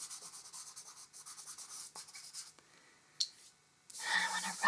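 Fingertips rub medium brown colour into a landscape drawing on paper, giving soft, repeated scratchy strokes at close range, then a brief pause and a louder, denser burst of rubbing near the end.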